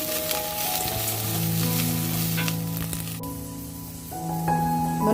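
Onions, dried chillies and curry leaves fry in hot oil for a drumstick and cucumber curry, a close, continuous sizzle with crackling spatter as the mix is stirred, alongside soft background music.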